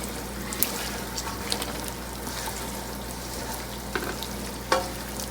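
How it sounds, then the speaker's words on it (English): Chicken frying in oil in a pot with a silicone spatula, a steady broad sizzle running throughout, with a few brief clicks and scrapes of the spatula near the end. "I'm gonna let this fry for a while. Get it nice and crispy."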